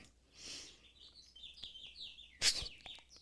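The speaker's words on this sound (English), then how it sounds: "They're just birds. Stupid birds." Small birds chirp and tweet just outside a window in a quiet room, with a few short bursts of high calls and one louder, brighter call near the end; no one talks.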